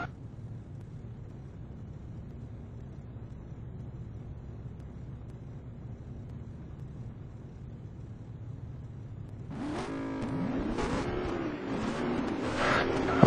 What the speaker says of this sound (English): I can hear the engines now roaring up.